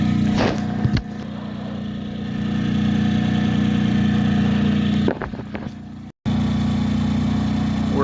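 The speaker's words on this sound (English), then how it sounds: "That's right, we have a generator." A generator powering an off-grid cabin runs steadily at a close, even idle drone, with a brief rustle near the start and one sharp momentary dropout.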